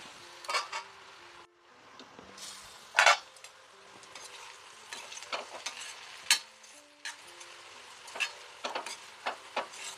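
Ivy gourd (dondakaya) fry with chili powder being stirred in a pan: repeated clinks and scrapes of a utensil against metal over a soft, steady sizzle, close and alone without speech.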